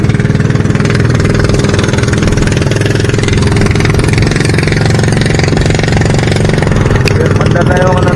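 A boat engine runs steadily at close range, a loud, rapid chugging drone that holds constant throughout.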